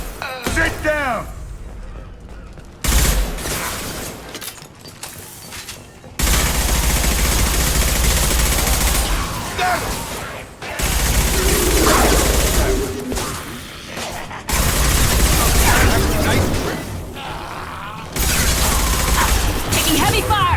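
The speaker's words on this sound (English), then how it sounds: "Taking heavy fire!" Heavy gunfire in the Mass Effect 2 video game, bursts of rapid automatic shots and loud impacts in several long barrages separated by brief lulls, with faint voices in the mix.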